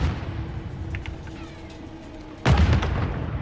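A loud explosion bursts in Call of Duty: Modern Warfare 3 gameplay, a sudden heavy boom partway through that follows quieter game ambience with faint shots.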